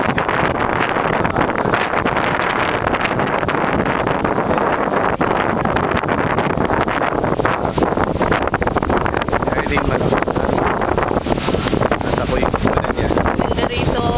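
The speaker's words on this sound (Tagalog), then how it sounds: "Malakas ang hangin at malakas ang alon." Strong wind roars and buffets the microphone on a beach near Bacolod City, with heavy surf washing beneath it in a constant loud rush that carries on unbroken throughout.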